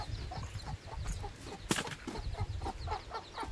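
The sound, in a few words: hen clucking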